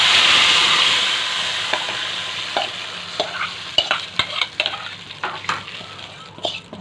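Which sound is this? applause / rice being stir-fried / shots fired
rice being stir-fried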